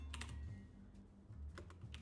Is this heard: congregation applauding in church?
no